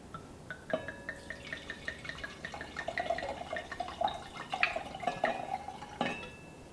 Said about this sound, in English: So I've got this wine glass right here, and I'm going to pour the wine in.